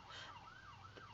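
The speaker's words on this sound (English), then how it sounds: "See, that's the second ambulance tonight." An ambulance siren wails somewhere at night, a faint, distant rising and falling tone that sweeps up and down over a quiet background for about a second.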